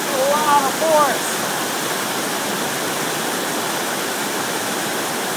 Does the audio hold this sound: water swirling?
yes